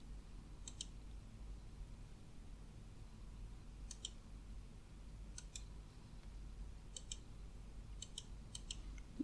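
A computer mouse clicking: about half a dozen sharp, quiet, close clicks spaced irregularly, some in quick pairs, over a low steady hum with no talking.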